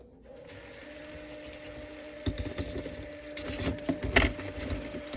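Water runs from a sink tap while chicken eggs are scrubbed with a brush, with a steady flowing hiss and irregular scraping and clicking bursts that grow louder toward the end.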